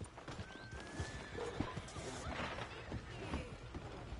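A horse in Red Dead Redemption 2 gives a clear neigh and whinny over steady clip-clopping hooves, set against busy in-game town ambience.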